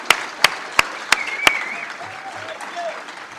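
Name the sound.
round of applause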